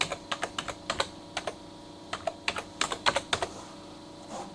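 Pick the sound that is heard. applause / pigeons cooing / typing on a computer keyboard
typing on a computer keyboard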